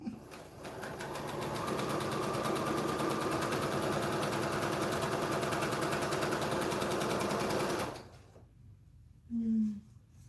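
A home sewing machine runs continuously for about eight seconds while stitching fabric face masks into a long chain, a close, rapid, even whirring chatter that then stops, followed by quiet with a brief faint noise.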